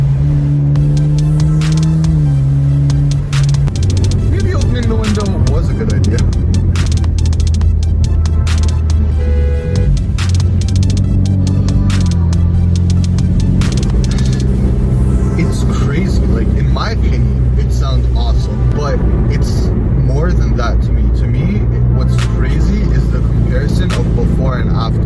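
Ford Mustang fitted with an MBRP catback race exhaust accelerating on the road, a loud, continuous deep engine rumble rising and shifting through gears, with people talking over it throughout.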